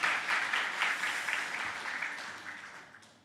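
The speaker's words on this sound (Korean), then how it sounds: "격려의 박수 한번 드리겠습니다" A church congregation in a Korean Sunday worship service claps in encouragement, a moderate wash of applause that gradually thins and fades out.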